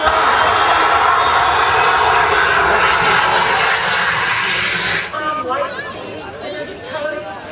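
Vintage airplane engine running at the Oshkosh airshow in 2008, a loud, steady roaring drone with chattering people nearby, cutting to quieter crowd talk after about five seconds.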